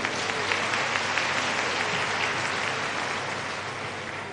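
An audience at a Nishad community gathering in Chhattisgarh breaks into loud, dense applause. The clapping is sustained and close, easing off slightly toward the end of the short burst.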